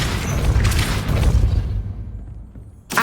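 A Depulso force spell strikes in Hogwarts Legacy, giving a loud booming impact with a rumbling low body that fades into near silence, then a sharp second burst at the end.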